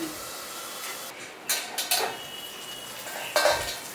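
A metal lid clattering onto a pan of cooking onions for mince curry, with a few sharp clanks and rattles over a low background hiss, the last knock the loudest.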